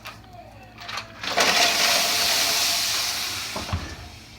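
Ice dropped onto a hot tray on the bottom rack of an oven at 400 degrees, set there to steam sourdough bread, bursts into a loud, close hiss that holds steady for about two seconds, then fades, with a clunk at the end.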